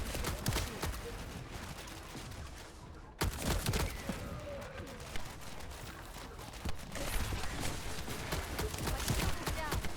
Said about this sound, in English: Too many random things shooting at me.